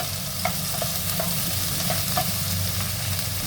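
Onions and tomatoes sizzle in a hot pan as they are sautéd, a steady frying hiss over low hum, broken by a few soft stirring clicks and taps, close and without speech.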